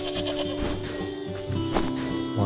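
A goat in the video game Wytchwood gives a short bleat or two, close and clear over soft background music and ambience.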